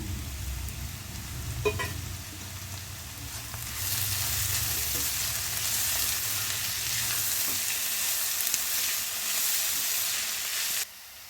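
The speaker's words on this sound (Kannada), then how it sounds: "ಎಲ್ಲ ನೀಟಾಗಿ ಫ್ರೈ ಮಾಡೋಣ. ಇವಾಗ ಕ್ಯಾಪ್ಸಿಕಮ್ ಹಾಕೋತಾ ಇದ್ದೀನಿ." Capsicum fries in a hot pan for vegetable fried rice, giving a steady, close, hissing sizzle that swells louder partway through and continues until it cuts off near the end.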